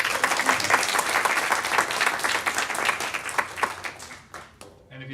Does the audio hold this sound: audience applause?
yes